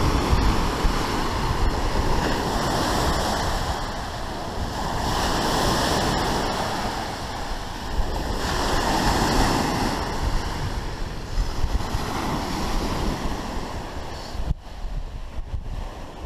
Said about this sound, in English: A little surf today.